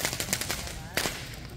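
Firecrackers bursting during a Narakasur effigy burning at Guravwadi, Rajapur, a fast crackling run of sharp pops at moderate distance over steady outdoor background noise.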